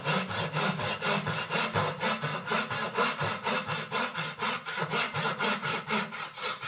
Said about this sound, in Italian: vado a tagliare, a dare il primo taglio